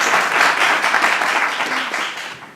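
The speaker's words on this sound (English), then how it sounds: "So give them a round of applause." Sustained audience applause for elected officials fills a large hall, dense and steady, then gradually tapering off toward the end.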